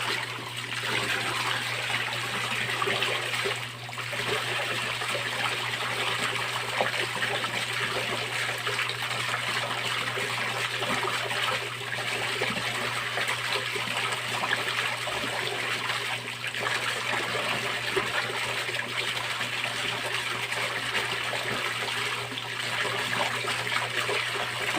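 A Hailea HX 6830 water pump, rated at 4400 L/h and being tested for a fish pond, pushes water in a strong, continuous gushing rush over a steady low motor hum, unbroken throughout.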